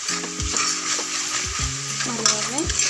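Masala spices stir-fried in a pan for a soya chunk gravy, with a loud close sizzle broken by repeated sharp scrapes of a spatula against the pan.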